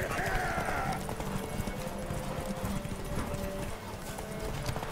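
Rapid clip-clop of a horse galloping in The Witcher 3: Wild Hunt runs steadily throughout, fairly loud, with a brief whinny near the start and game sound effects layered over it.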